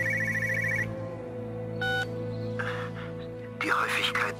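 A telephone rings in the video game Everybody's Gone to the Rapture, with bursts of trilling bells between stretches of low drone and a radio-like hum, while faint whispering and other noises flicker around it.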